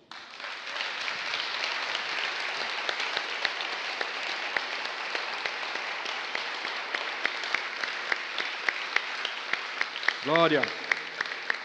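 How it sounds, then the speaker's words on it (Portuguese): A church congregation applauds loudly and continuously for a long stretch, and a voice calls out briefly near the end. "Pode aplaudir."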